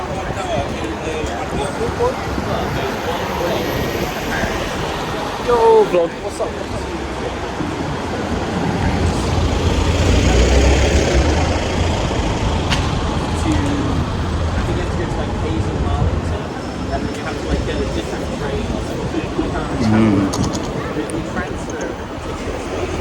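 Tourist buses and other vehicles driving through busy London streets, a continuous rumble of engines that swells and fades as they pass, with voices talking over the traffic.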